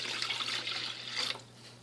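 White vinegar poured into the reservoir tank of a BrewStation coffee brewer, a steady splashing trickle of liquid that runs for over a second, then tapers off to a faint dribble.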